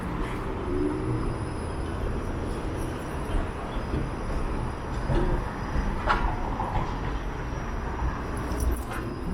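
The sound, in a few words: Toronto streetcar passing on the street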